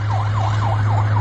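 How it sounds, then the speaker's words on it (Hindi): A fast yelping siren sweeps up and down repeatedly over a low constant hum, loud and close. "सायरन की आवाज आपको सुनाई दे रही है"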